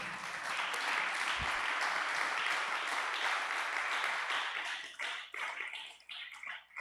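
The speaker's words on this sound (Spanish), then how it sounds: "¿Cuántos pueden dar un aplauso al Señor?" Congregation applauding in a church service, a dense wash of many hands clapping that holds steady, then thins and fades in the final seconds.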